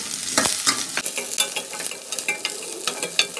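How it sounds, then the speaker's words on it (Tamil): Onions sautéing in oil in a kadai pan, being stirred for a quail egg gravy: steady close sizzling with scraping spoon strokes and clicks against the pan, no voices. "இப்போ வெங்காயத்தை போட்டு வதக்கிக்குவோம்."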